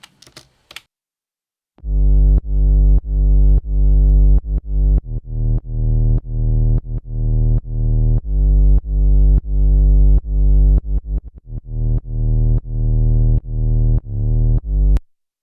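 A distorted 808 bass line with the kick shifted earlier pulses in loud, heavy, saturated low notes. They repeat in a steady rhythmic pattern after a short clicky intro, with no talking.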